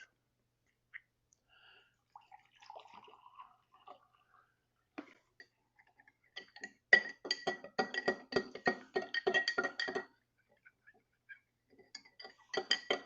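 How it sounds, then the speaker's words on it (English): Water is poured into a drinking glass for mixing probiotic powder, starting with a few faint clinks and a trickle, then a bright splashing pour of several seconds, followed by scattered small drips and taps. "Let me pour some water into the glass."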